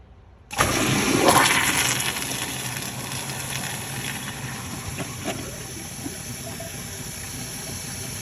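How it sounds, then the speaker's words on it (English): A toilet tank is test-flushed after its upper supply line was replaced: a sudden loud rush of water starts near the half-second mark, then settles into a steady hiss and gurgle of refilling water, close and alone. "we're going to go ahead and give it a test flush"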